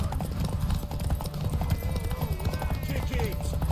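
A horse gallops in a race in the video game The Witcher 3, with rapid rhythmic hoofbeats running continuously under raised voices and a brief whinny.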